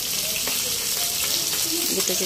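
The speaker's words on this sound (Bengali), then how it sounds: "তারপর আমি এই মাছের তেলটাতে দিয়ে দেব গোটা জিরা।" Whole cumin seeds sizzle and crackle in hot oil left from frying fish in a home kitchen, a close steady frying hiss with a few light stirring clicks.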